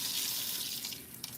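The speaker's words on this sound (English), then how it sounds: "I'm gonna turn the water down a little bit." Steady hiss of water running from a sink tap indoors, a continuous close rush with slight splashing variation and no talking.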